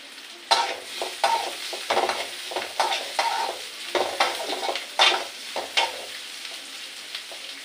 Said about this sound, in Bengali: এবারে এই পেঁয়াজটা সুন্দর করে ভাজি করে নেবো একটু।